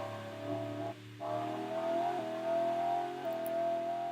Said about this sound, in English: I like the fact that the engine noise changes when you get to the top of your rev meter